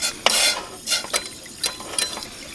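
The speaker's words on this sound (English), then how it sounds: "Stir this really quick." A utensil stirs shallot sauce in a pot heating on the stove, giving a few quick scraping and clinking strokes in irregular bursts, close and fairly loud, with no talk.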